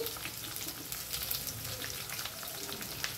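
Chopped onions frying in hot tempering oil with mint and coriander for tomato rice, giving a dense, continuous crackling sizzle that stays steady and close throughout, with no voices.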